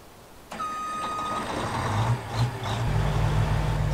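A Gleaner S98 combine harvester's big diesel engine cranks and catches in Farming Simulator 19, its rumble rising and settling into a heavy idle, accompanied by a high electronic beep tone at the start.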